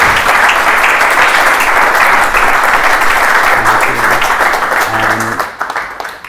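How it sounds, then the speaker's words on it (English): Loud, close applause for panellists at the end of a panel discussion, dense clapping that holds for several seconds before thinning out and trailing off near the end, with a few faint voices underneath. "can we have a round of applause for our panellists?"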